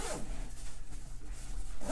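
A zipper being pulled open on a Vanquest IBEX 30 backpack, one continuous close zipping stroke lasting nearly two seconds with no speech.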